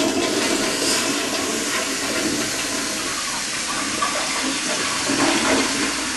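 A household toilet flushing, a steady loud rush of water swirling and draining for several seconds, close by with no voices.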